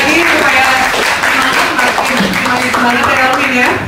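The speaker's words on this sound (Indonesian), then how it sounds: "Tepuk dong sekali lagi" Loud, sustained audience applause at a Miss International Indonesia 2014 press conference, a dense steady wash of clapping with voices and cheering mixed in beneath it.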